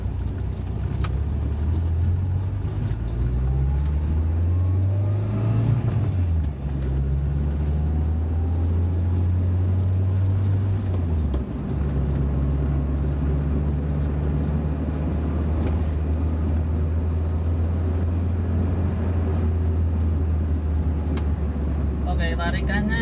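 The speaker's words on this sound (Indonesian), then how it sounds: "Kita coba untuk berakselerasi dari gigi 1 ini." A 1986 Mazda 323 hatchback pulls away from first gear, its engine note climbing steadily in pitch, dropping briefly at a shift, then rising again as it keeps building speed, loud and continuous from inside the car.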